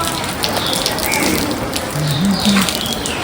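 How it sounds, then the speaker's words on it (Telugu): Rain begins to fall, a steady broadband patter on surfaces throughout, with faint bird-like chirps over it. "వర్షం కూడా పడుతుంది, రెయిన్ ఇప్పుడే స్టార్ట్ అవుతుంది."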